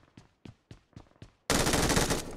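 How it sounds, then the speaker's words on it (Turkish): Gunfire from a machine gun in the PUBG Mobile video game: five sharp separate shots, then a loud, continuous burst of automatic fire that runs to the end. "Dışarı taraftan da sıkanlar var"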